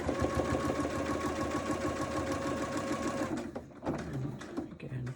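A sewing machine runs in a fast, steady stitching rhythm while piecing flying geese quilt blocks, then stops and gives way to a few short clicks and handling noises.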